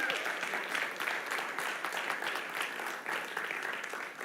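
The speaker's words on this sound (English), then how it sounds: "Give Mohammed another round of applause." Audience applause for a man at a live stage show, a steady, sustained wash of clapping that stays fairly even throughout.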